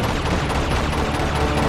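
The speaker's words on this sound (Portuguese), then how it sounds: "Ah, tá, eu atirei nele" Gunfire in the video game Uncharted 2 comes as a dense, loud, continuous roar of shots over under two seconds, with no talk.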